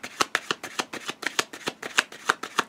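Tarot cards shuffled by hand nearby, a steady run of about a dozen quick riffling bursts in even rhythm, clear and fairly quiet with no voices.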